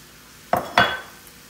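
Cooked pasta is dumped into a hot pan with shrimp, two quick clattering hits followed by a short sizzle that fades over a quiet background, with no talk.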